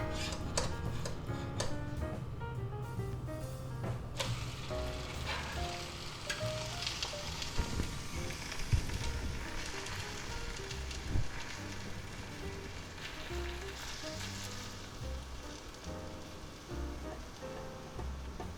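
Toast with spinach, onions and cheese cooking in a covered pan, giving a steady soft sizzle with faint crackles and occasional ticks, continuous and moderately quiet throughout.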